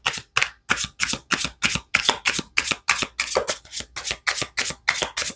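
Tarot cards are riffle-shuffled by hand close up, about a dozen quick crisp bursts of rapid flutter in a steady rhythm, each separated by a brief silence.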